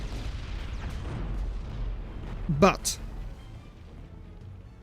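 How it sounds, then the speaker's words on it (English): Explosion in the Zero-K strategy game, a heavy booming burst with a sharp crackling peak midway, heard under someone commentator's talk amid ongoing battle rumble. "the explosion does take down the Zenith."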